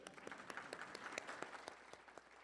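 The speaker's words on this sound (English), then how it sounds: "Can we get a round of applause?" An audience at a college Board of Trustees meeting claps in a faint, scattered round of sharp hand claps, heard from a distance with no voices.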